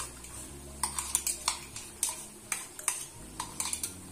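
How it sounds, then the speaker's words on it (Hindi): A spoon scrapes and clinks against a metal cooking pot as prepared spice masala goes in for a besan snack, giving a series of sharp, close taps and knocks at an uneven rhythm. "ये हम सारा का सारा अपने बर्तन में ऐड कर देंगे"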